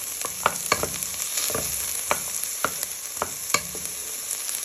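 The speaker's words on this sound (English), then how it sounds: "You want to start giving them a little bit of a stir" Carrots, onions and garlic sizzle steadily in a pan while a utensil scrapes and taps through them in irregular strokes, the frying hiss continuous and close underneath.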